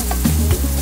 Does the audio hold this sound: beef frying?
yes